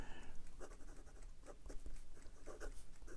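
A fountain pen nib from an Asvine P20 or Leonardo Momento Zero writing on paper, with soft, faint scratchy strokes in short repeated bursts, close up and quiet.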